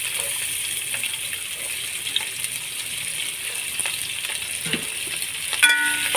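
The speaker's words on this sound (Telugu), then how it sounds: "ఉల్లిపాయ ముక్కలు వేసుకోవాలి." Onion pieces frying in a little oil in a pan on a stove give a steady, soft sizzle close by, with occasional faint clinks and stirring noises and no talking.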